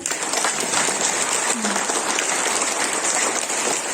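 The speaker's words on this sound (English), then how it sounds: "Clap for her words." An audience claps at a school morning assembly, a steady, dense patter of many hands that stays level throughout, with a faint voice briefly audible beneath it.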